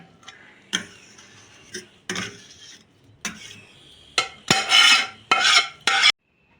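Mashed eggplant being mixed by hand with chilli, onion and coriander, heard as a series of soft squelching and scraping strokes that come in brief bursts, with louder, denser mixing toward the end.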